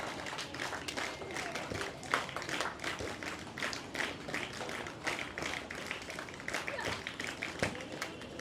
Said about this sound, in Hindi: स्काउट वाले क्लैप बजाते रहेंगे